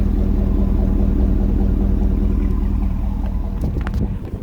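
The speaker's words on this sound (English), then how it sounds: "But a beautiful truck, as you can hear. The exhaust, it runs great." The exhaust of a 2008 Cadillac Escalade rumbles at a steady, smooth idle close by, a deep continuous drone with a few light clicks and taps near the end.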